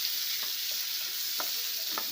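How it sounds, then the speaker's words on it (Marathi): Garlic and onion stir-fry in a pan for a kantola vegetable dish. A loud, even hiss of sizzling oil runs throughout, with a few soft knocks of stirring close by and no voices. "आता मस्त हे असं परतून घ्यायचं।"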